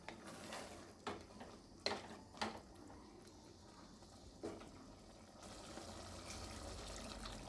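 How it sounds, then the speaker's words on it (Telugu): Water is poured into a pressure cooker holding fried mutton and masala for pulao, a soft, quiet trickle and splash with a few louder clinks or pours, heard alone. "ఇప్పుడు నీళ్ళని యాడ్ చేసుకోవాలి"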